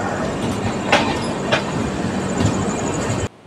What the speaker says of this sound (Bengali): ট্রেন প্রবেশ করলো আজিমগঞ্জ জাংশন